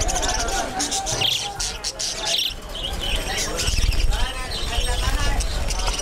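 Pet budgerigars chatter and chirp densely at a wholesale bird market in Sylhet's Lalabazar, a loud continuous twittering mixed with people talking nearby.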